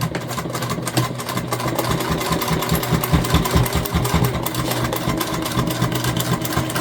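A sewing machine runs continuously while stitching a tote bag seam, a loud, close, steady mechanical whir with a rapid rhythmic chatter.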